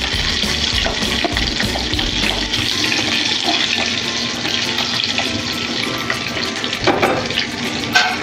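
Stuffed bell peppers fry in oil in a pan with a loud, continuous crackling sizzle that holds steady throughout, a few sharper pops and clatters near the end, with no talking.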